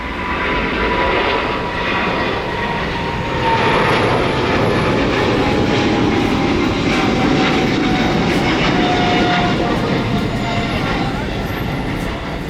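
An EVA Air Boeing 777-300ER takes off from Tan Son Nhat airport, its jet engines a loud, steady broadband roar that holds strong from start to finish.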